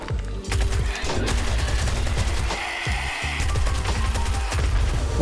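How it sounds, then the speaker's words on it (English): Rapid gunfire from a rooftop in the zombie survival game 7 Days To Die, with dense, continuous bursts of loud shots and crashes filling the whole stretch. "so we jumped up on the roof and started shooting."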